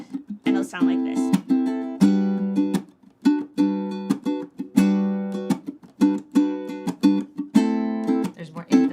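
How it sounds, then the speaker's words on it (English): Ukulele strummed with a tightened, snappier right hand, giving crisp, emphatic strokes in a regular rhythm, each chord cut short by quick gaps, played up close and loud with no talking. "I'm gonna tighten up my right hand, and it'll sound like this."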